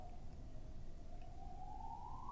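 An emergency vehicle siren wails faintly outside, a single rising tone carried over low background rumble, distant and soft.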